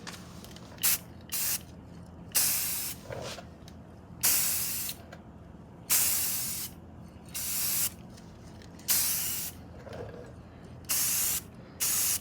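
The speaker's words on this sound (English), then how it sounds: "I'm just doing really light mist coats for right now." Short bursts of aerosol spray primer misting onto a rear axle, roughly a dozen hissing pulses of about a second each separated by brief pauses, close and fairly loud with no talking.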